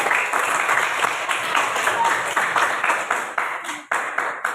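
Children in a classroom clap for a classmate named Evan, a dense, steady burst of applause that stays loud and close before trailing off near the end.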